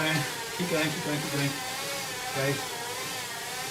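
Bicycle wheels spinning on Elite Arion rollers, a steady whirring drone running throughout with slight surges as the rider wobbles, while a voice talks over it.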